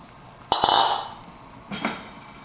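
Boiled, cut meat pieces tip into a pot of Haputale-style meat curry: two sharp knocks and a rushing hiss as they land, then a second, briefer clatter and scrape a moment later, with no talking.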